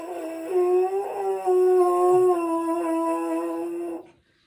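A brass instrument mouthpiece is buzzed with heavy force, giving a strained, nasal, tonal drone with wavering pitch that holds for about four seconds before cutting off abruptly.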